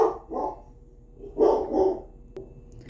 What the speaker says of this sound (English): Barking dog never fails, right?